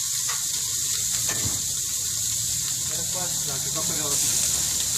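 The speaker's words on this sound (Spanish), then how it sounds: "Ya se están cocinando las salchichas para futuros guaraches" Sausages sizzling on the grill of a Mexican street food stand, a steady, bright frying hiss running throughout with faint clinks and bubbling, while a person talks nearby.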